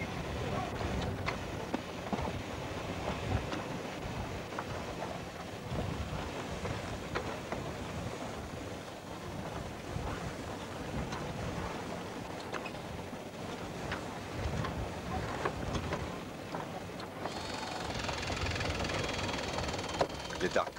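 An electric winch handle hoists a sailboat mainsail, a continuous motor whir with a slightly knocking, grinding texture, steady and close, while someone speaks over it.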